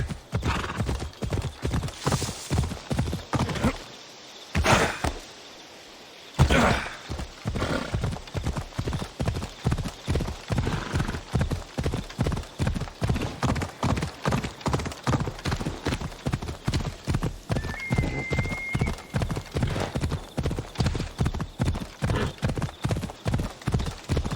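A horse gallops in Assassin's Creed Odyssey, its hooves pounding in a fast, steady rhythm close by for the whole stretch, broken by a brief pause, with a whinny near the start.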